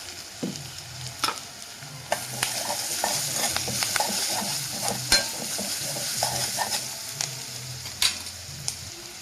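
Spices including turmeric sizzle in hot oil in a pan while being stirred for millet tomato rice, with a steady frying hiss broken by sharp scrapes and clicks of the spoon.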